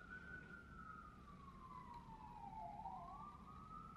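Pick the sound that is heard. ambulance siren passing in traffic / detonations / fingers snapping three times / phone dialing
ambulance siren passing in traffic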